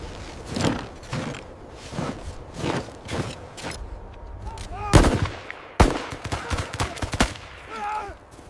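Gunfire in a World War II winter battle during the German retreat through the Caucasus in 1942, sharp shots and bursts mixed with shouting voices and movement, with loud cracks near the middle.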